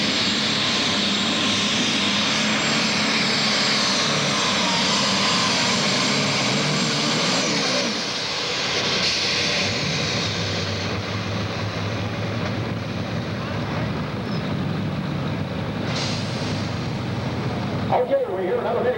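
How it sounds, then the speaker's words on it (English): Turbocharged pulling tractor at full power in a 7,500 lb super stock class at the 1997 Nebraska State Fair, a loud, sustained roaring drone that barely wavers across the whole stretch, with a crowd and announcer faintly underneath. "trying to get all of those turbochargers wound up. Puts on the power and the water"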